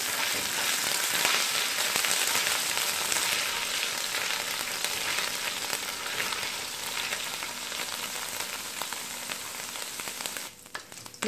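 Garlic-ginger paste sautés in hot oil for a spicy fish karahi, giving a continuous, close, even sizzle and crackle throughout with no talking.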